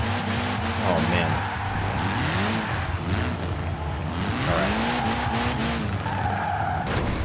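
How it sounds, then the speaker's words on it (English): Tires squeal and skid under a steady engine roar as a motor-swapped Fiat on three wheels does burnouts in Forza Horizon 4, with a voice talking over the continuous racket throughout. "you can do some pretty sick little burnouts with it on 3 wheels"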